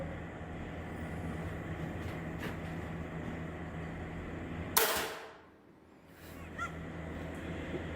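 A Raven crossbow fires once with a single sharp, loud snap that fades quickly, set against a steady outdoor background hum with no talking.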